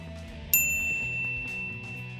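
A single bright notification bell ding strikes sharply and rings out with a clear metallic decay, heard alone over a faint musical background.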